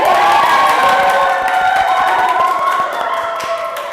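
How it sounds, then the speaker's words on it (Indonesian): A room of children cheers and shouts while scattered hand claps patter through, loud and lively, fading slightly toward the end. "Tepuk tangan."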